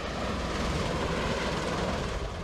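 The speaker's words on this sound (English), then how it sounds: "As the rotors accelerate, the twin engine's characteristic whine intensifies." A V-22 Osprey tiltrotor's twin engines whine loudly as the rotors spin up, giving a dense, steady roar with a throbbing low rumble that stays close and constant and has no voices over it.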